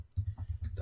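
A web address tapped out on a computer keyboard, a quick close run of soft key clicks lasting under a second, alone with no voice.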